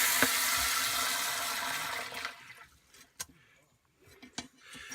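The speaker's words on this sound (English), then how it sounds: "water should start to come out." Water gushing then draining from a pipe beneath a cabin after a cut-off valve is turned counterclockwise a quarter turn, a steady rushing flow that fades after two seconds into faint trickles and small knocks.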